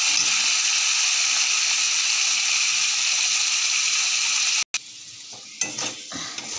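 Potato pieces fry in hot oil with salt added, giving a steady, loud sizzle close by that breaks off near the end into clinks and stirring noises.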